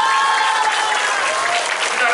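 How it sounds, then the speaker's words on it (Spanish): Short burst of outdoor audience applause at a public works inauguration, steady clapping from a crowd with voices mixed underneath. "un fuerte aplauso para ella"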